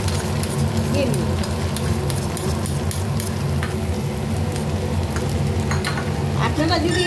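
Gobindobhog rice paste, ground and added to a hot frying pan with onion tempering, sizzles and crackles steadily and loudly throughout, with faint stirring clinks.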